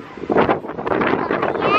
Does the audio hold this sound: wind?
yes